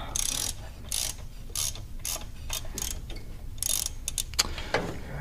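A hand socket wrench ratchets bolts on the timing cover of a 1964 Dodge Custom 880 during a timing chain replacement, giving loud close clicking bursts in repeated strokes with short pauses between them.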